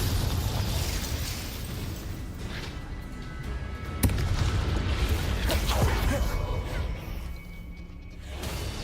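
A booming Confringo explosion spell from the Hogwarts Legacy video game, heard as dense rumbling blasts with sharp pops and whooshes amid ongoing combat noise.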